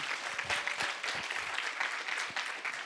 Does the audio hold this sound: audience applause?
yes